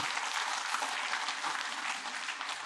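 A church congregation applauds its praise team during a Sunday worship service, a steady dense wash of clapping that holds evenly loud throughout, with no voices over it.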